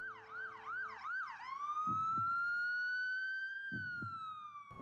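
Ambulance siren wails close by, starting with rapid rising-and-falling yelps, then shifting into a long steady tone that slowly fades, with muffled thumps underneath.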